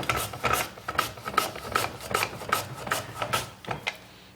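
Beetroot being sliced very thin on a mandoline: a steady, rhythmic run of close, loud rasping strokes, about two per second, with no talk.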